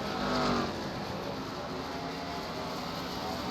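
An MG Cup race car at Willow Springs during a race, a dense, steady engine roar at full speed, loud and continuous throughout with no pauses.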